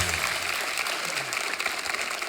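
Studio audience applauding at a Hindi television comedy show, a short dense burst of clapping that fills the whole moment, loud and close.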